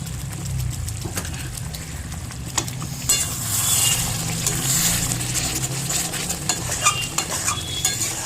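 Thick chicken kosha gravy bubbling and spattering in a pan, a steady low sizzle and scraping with scattered sharp pops and spits, heard up close with no talking.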